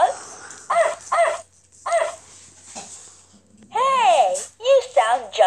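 A toy puppy gives a few high yipping barks in short bursts, and a voice later imitates the barking in long wavering cries. Close and fairly loud, with stretches of quiet between.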